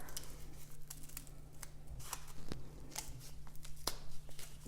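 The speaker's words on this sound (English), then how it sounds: "just going to trim that there." Scissors snipping and trimming a paper craft at close range, a series of quiet sharp cuts and light paper rustles over a faint steady hum, no speech.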